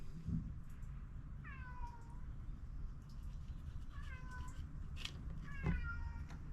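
A cat meows three times, drawn-out descending cries spaced a couple of seconds apart, over a low background hum with faint knocks.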